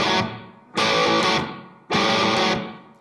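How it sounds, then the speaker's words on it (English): Distorted electric guitar striking simple power chords in a loud rhythmic pattern, each chord ringing and decaying before the next hit, with no voices. "So the chord is a real simple power chord"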